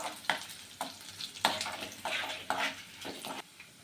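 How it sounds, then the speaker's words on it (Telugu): Dry red chilies, garlic, chana dal and urad dal fry in oil as tempering for gongura pachadi. The sizzle is quiet and close, broken by repeated stirring scrapes in the pan. "ఎండుమిర్చి కొద్దిగా ఫ్రై అవ్వాలి. వెల్లుల్లి కొద్దిగా క్రిస్పీగా ఉంటే బాగుంటుంది."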